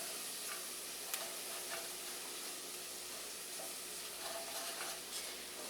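A pan of spices for mole sauce sizzles steadily as it is stirred, a constant close frying hiss with faint scraping taps scattered throughout, no talking.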